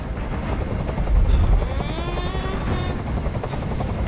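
A helicopter from the video game Detroit: Become Human thrums steadily and loudly throughout, its rotor drone continuous with a rising whine passing through the middle.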